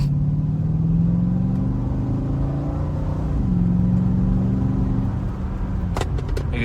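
A 2007 Chevrolet Corvette 3LT with the LS2 V8 rumbles from the exhaust while driving, a deep steady engine drone that rises and dips as the car accelerates and shifts, heard from inside, with a short knock near the end.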